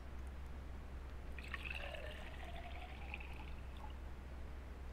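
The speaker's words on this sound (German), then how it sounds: "Hier in die Karaffe können wir Wasser gießen." Water pouring into a carafe in a puzzle adventure game, a short, gentle trickling splash lasting about two seconds over a constant low hum, with no voices.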